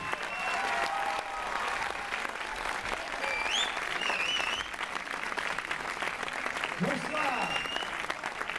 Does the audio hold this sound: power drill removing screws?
no